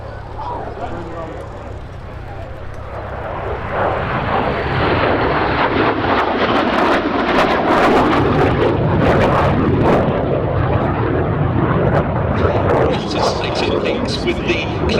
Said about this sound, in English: With the Klimov VK-1F afterburning turbojet engine.